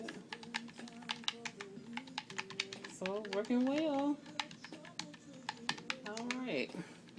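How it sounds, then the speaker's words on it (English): Typing on a number keypad: rapid, irregular clicks of keys being pressed, close and steady throughout, with a voice talking over part of it. "If you can see me typing in the numbers, so it does work fine."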